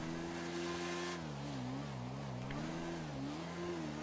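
A motorbike engine in GTA 5 on a FiveM server holds a continuous close drone, its revs swelling and dipping in waves throughout, with no talk over it.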